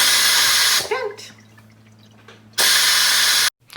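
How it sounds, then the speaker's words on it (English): Steam rushing loudly from an Instant Pot's quick-release valve after pressure-cooking potatoes, two strong hissing bursts separated by a quieter stretch of faint bubbling and a low hum. "we're going to go ahead and change the venting to quick vent, and we're going to let it vent."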